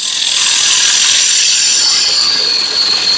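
A sealed bowl gouge cutting wood on a lathe, a steady high-pitched hiss and scraping whine that holds loud and continuous, easing slightly toward the end.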